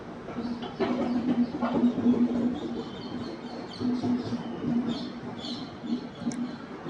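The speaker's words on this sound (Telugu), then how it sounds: "1 నిమిషం ఆలస్యంగా మైసూర్ జంక్షన్ నుంచి మన ట్రైన్ బయలుదేరింది" A passenger train, the Hampi Express, pulls out of Mysore Junction with a steady low rumble, a sustained tone and light rattles and clacks from inside the carriage.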